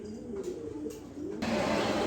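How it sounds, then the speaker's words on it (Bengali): A pair of racing pigeons, a male and a female, coo softly and close by, their low murmuring calls continuing over a muffled, noisy background with no voices. "দর্শক দেখেন এখানে এক পেয়ার কবুতর দিলাম খুবই সুন্দর একটা পেয়ার"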